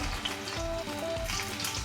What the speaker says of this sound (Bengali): এবার এতে আমরা রসুন ছেড়ে দিচ্ছি